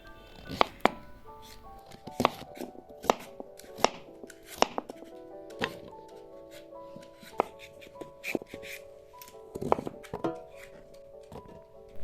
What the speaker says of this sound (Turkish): daha da küçük dilimlere ayırıyoruz